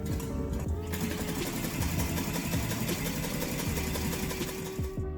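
A small model Stirling engine, its bottom heated, running after its flywheel is spun by hand, producing a fast, steady mechanical whirring and clattering rhythm close up that continues throughout.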